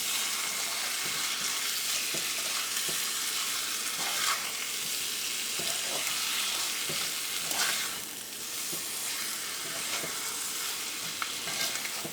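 Chicken tomato masala with lemon juice stirred in a hot pan: a steady sizzle with repeated scraping strokes of a spoon, close and even throughout.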